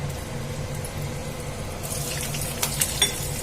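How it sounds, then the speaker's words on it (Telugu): Green chillies frying in hot tempering oil, a soft continuous sizzle with a few louder crackles and spatters near the end, no voices. "ఈ పచ్చిమిర్చి మనకు నూనెలో వేగేలోపు"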